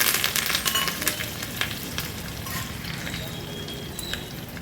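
White sesame seeds, mustard seeds and curry leaves hit hot oil for a tempering on corn dhokla, giving a close, steady sizzle with sharp crackles and pops.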